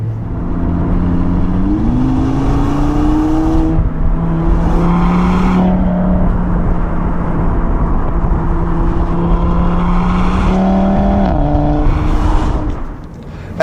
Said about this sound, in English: It is lovely how this gearbox changed the gears